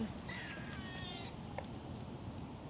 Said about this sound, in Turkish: Sincap'ın sesini duydum ilk defa.